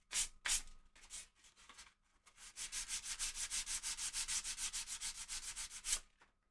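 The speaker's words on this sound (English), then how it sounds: "And when I finish sanding this," A guitar being sanded by hand, a few separate short strokes followed by a long run of quick rhythmic back-and-forth rasping, close and crisp, with no voices.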